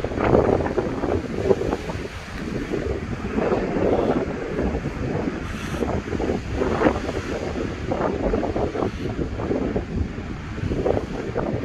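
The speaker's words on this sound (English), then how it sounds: "Look at all these waves." Ocean waves wash onto a shore under steady, loud wind buffeting the microphone, a continuous rushing roar with surges of surf throughout.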